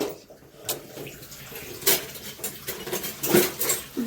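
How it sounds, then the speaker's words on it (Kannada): Tap water running in a home kitchen while raw chicken is washed for biryani, with scattered clatter of dishes and utensils and splashy bursts over a steady low flow, close by, no talk. "ಚಿಕನ್ ತೊಳೆಯಮ್ಮ."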